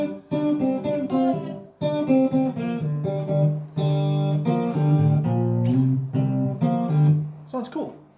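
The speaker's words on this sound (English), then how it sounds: "If you're playing it on clear guitar, it's going to sound something like this." Intro riff played on a clean electric guitar: a run of bright, ringing picked notes in quick rhythmic phrases with short gaps, close and loud, no voice.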